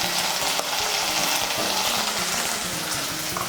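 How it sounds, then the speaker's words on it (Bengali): Spiced tomato paste with salt frying and being stirred in a pan for a pointed gourd (potol) dhokar dalna, a steady broadband sizzle with scraping stirs throughout, close and fairly loud, no talking. "মিশিয়ে নিয়ে মশলাটাকে ভালো করে কষিয়ে নেব।"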